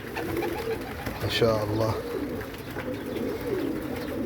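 Newly hatched small red birds call with soft cooing and peeping sounds from close by, mostly under a voice.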